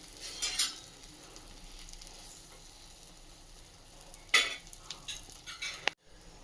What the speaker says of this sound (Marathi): ही पोळी छानपैकी आपल्याला बटरवरती भाजून घ्यायची आहे